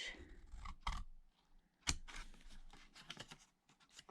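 Scissors cut one edge of each card corner square on a handmade gift box, giving two sharp, close snips followed by a run of lighter clicks and rustles.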